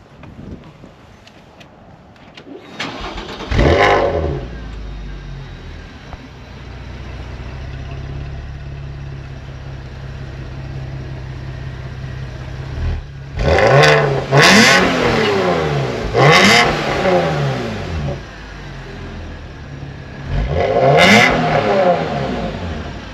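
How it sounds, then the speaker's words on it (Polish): A Porsche Panamera 3.6 V6 engine idles low and steady, then revs sharply several times in quick bursts, each exhaust roar rising and falling back to a rumble, loud and close. "posłuchamy wydechu."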